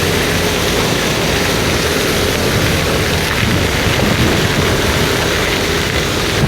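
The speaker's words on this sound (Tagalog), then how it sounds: "ganap na bagyo na" Heavy, steady typhoon rain pours down without a break during a September storm, a dense loud wash of drops with a low rumble underneath, and no voices.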